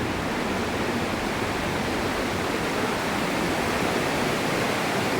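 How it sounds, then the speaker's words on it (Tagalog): Waterfall in the Aare Gorge, a steady, dense roar of rushing water that holds constant and loud throughout with no other sounds above it. "So, nandun na yung waterfalls sa dulo."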